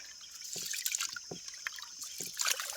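Rice being washed by hand in pond water makes soft irregular trickles, drips and small splashes, quiet and close, with no talk.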